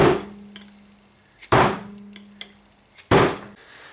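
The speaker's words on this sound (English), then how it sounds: "And we're just going to hammer this guy out." Three sharp metallic hammer blows on a brass punch, driving a bushing out of a 42RH/A500 transmission, ring out about a second and a half apart, each leaving a short ringing tone, with faint light taps between.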